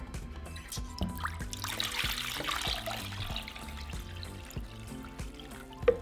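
Continuous splashing and trickling of water filling a pot holding half an onion and bay leaves, steady and close, with a faint clink near the end.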